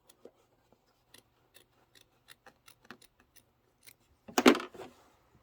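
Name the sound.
scissors trimming fabric along trim line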